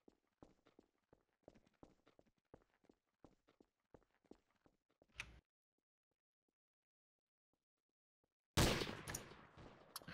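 Gunfire in Garry's Mod Trouble in Terrorist Town: quick light footstep clicks, a pause of near silence, then a sudden loud burst of shots at the end.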